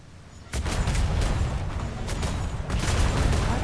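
Naval cannons fire in the DarksideRP Royal Navy game, heavy booming blasts that start sharply and roll into continuous loud rumbling, with another strong volley near the end and no talking.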